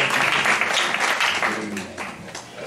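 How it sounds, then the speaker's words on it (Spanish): Audience applause for a speaker at a talk on psychological intervention with people with disabilities, a dense, steady wash of many hands clapping that fades slightly toward the end, with no voices over it. "yo creo que damos otro aplauso a Clara"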